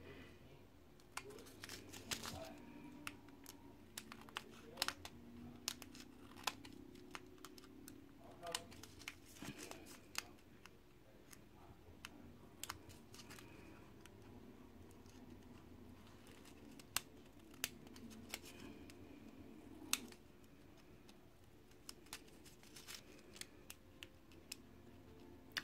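Scissors trim craft paper for Valentine's Day mason jar and heart crafts, with many quiet snips and crinkles scattered irregularly throughout, faint and close.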